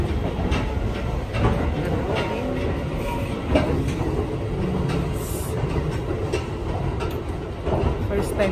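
Commuter train riding on rails, a continuous loud rumble with clattering wheel knocks and brief squeals, heard from inside the carriage with faint voices in the background.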